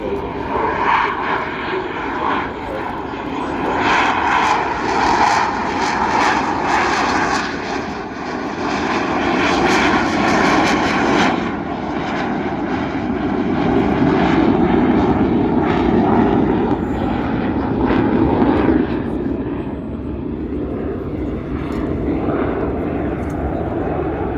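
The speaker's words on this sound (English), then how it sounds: "The aircraft accelerating to about 120 knots, which is about 140 miles per hour" Engine roar from an aircraft at an airshow as it accelerates for a slow speed pass, a loud, sustained drone that swells and shifts in pitch over about twenty seconds with no clear voices.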